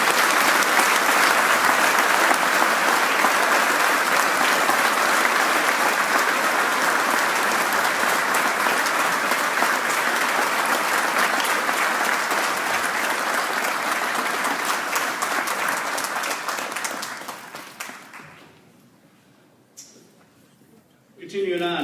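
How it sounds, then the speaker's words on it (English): Audience at a 2018 Cumberland School District ceremony giving a long, loud, dense round of applause that holds steady for about seventeen seconds, then thins out and fades, leaving near quiet with a few last claps. "Please join me in a warm and well-deserved round of applause for Mr. Don Horstman."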